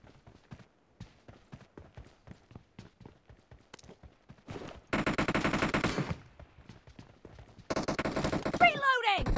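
In PUBG Mobile, quick in-game footsteps patter before two long, loud bursts of M249 machine gun fire rattle out, the second ending with a rising whine.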